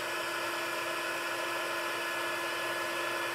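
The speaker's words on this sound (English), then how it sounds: "let me get my heat gun. And we're going to heat emboss him." A heat gun blows steadily at close range while embossing powder is melted on a snowman card. The hiss is continuous and even from start to finish, with no talking.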